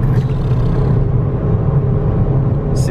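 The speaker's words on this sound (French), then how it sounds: "Pour une toute petite voiture elle fait un bruit." A Ford Fiesta ST with 185 hp rumbles from inside the cabin, a loud, steady low engine drone with some whirring under acceleration, heard without talk.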